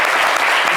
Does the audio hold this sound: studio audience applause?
yes